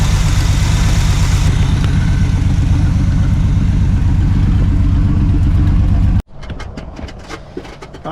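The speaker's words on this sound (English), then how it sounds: "it actually sounds like a decent running little engine" The V8 engine of a 1976 Chevy K10 pickup, unused for ten years, idles loudly and steadily with a deep, lumpy rumble, then cuts abruptly to a quieter background with faint clicks near the end.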